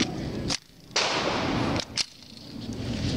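Glock pistol fitted with a CAA Micro Roni Stab extended stabilizer, firing at a range: a few loud, sharp gunshots spaced apart, each with a long echoing tail, and no talk.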